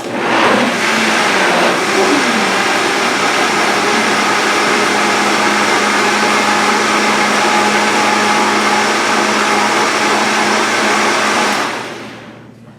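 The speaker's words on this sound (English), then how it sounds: "I just want to check and make sure that we got everything blended up in there." A blender whirs steadily for about eleven seconds, blending creamy vegan tomato soup, loud and constant from start to finish before spinning down at the end, with no talk over it.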